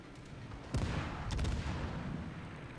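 Warship naval guns fire in World of Warships, a sharp boom followed by a second salvo about half a second later, with a rumbling tail over steady background noise.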